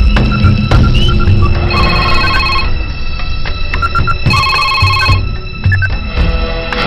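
A telephone rings repeatedly in bursts through a loud, busy film scene with music and effects, the ringing tones recurring across the whole stretch.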